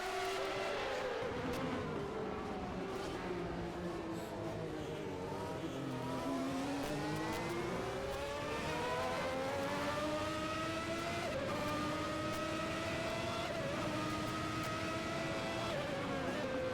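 Formula 1 cars with Ferrari V12 engines race at the 1991 French Grand Prix, a loud continuous high-pitched engine wail rising and falling through gear changes, several cars overlapping, steady throughout.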